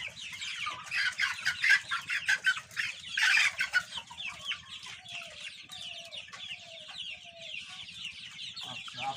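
Chickens on a poultry farm, a flock of 49-day-old birds, cluck and squawk continuously in a dense overlapping chorus with a steady low hum beneath, fairly close and moderately loud.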